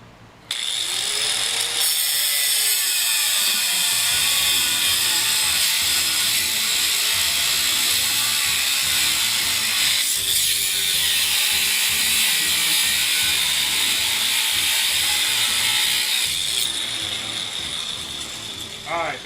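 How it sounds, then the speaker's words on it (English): An electric grinder, its motor running hot while working on an explosion-proof firework steak oven, keeps a steady loud whine with rough ratcheting grinding texture through nearly the whole stretch, easing off slightly near the end. "The grinder is getting so hot that it's hard to hold."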